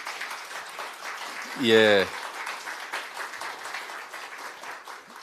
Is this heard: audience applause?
yes